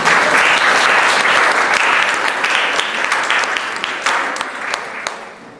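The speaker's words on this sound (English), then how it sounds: "You get a round of applause because this happens." Loud, sustained applause from a large audience at a school opening night event, steady clapping that slowly thins out toward the end.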